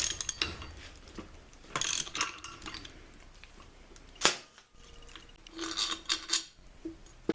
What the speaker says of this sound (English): Use a 12 millimeter socket. That'll also work just fine